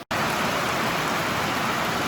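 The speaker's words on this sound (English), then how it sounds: "it's raining today, so I won't be able to put this thing in action." Outdoor rain falls in a steady, dense hiss, close and fairly loud, beginning after a split second of silence and continuing unbroken with no voices.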